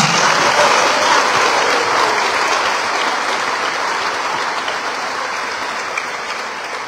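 Loud, sustained applause from a large crowd at a church fiesta for Nuestra Señora del Pilar, dense clapping that continues steadily throughout and tapers only slightly toward the end.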